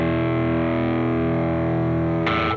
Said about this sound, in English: This is the Electron's take on a distortion box.